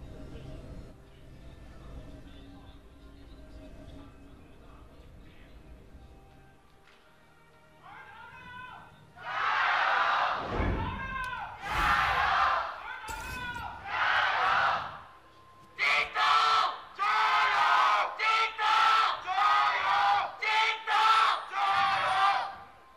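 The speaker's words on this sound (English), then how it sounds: "That's going to be the last cheer we get from Jindong" Esports crowd at a League of Legends LPL match between JD Gaming and Rogue Warriors, chanting and cheering in loud rhythmic bursts that build from a quieter murmur into repeated unison shouts from a large arena audience.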